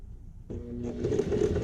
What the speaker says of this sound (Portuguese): Costuro um pouquinho, volto, saindo do tecido, ó.